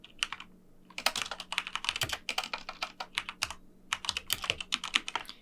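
Computer keyboard typing while writing code, a close, steady patter of quick keystrokes in uneven bursts with brief pauses, clear and fairly loud over faint low background hum.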